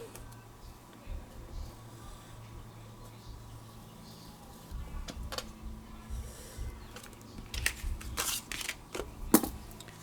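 Scissors cutting through traced scrapbooking paper from a Kiwi Lane kit, heard as quiet, scattered snips and rustles that grow busier and a little louder toward the end over a faint room hum.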